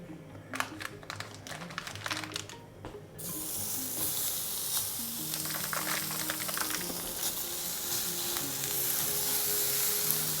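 Loud, continuous sizzling of pre-cooked sausages frying in a very hot pan, starting after a few scattered clicks and holding steady to the end.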